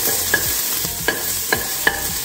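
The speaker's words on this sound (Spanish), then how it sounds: "Vamos a esperar a que la cebolla se dore." Onion frying in a pot for semolina soup, a steady sizzle with a spoon stirring through it in four regular scraping strokes, close and loud with no voices.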